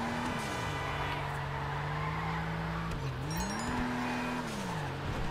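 A Nebula Turbo car in a video game drifts with sustained tyre squeal over a droning engine whose pitch dips and rises through the slide, loud and continuous throughout.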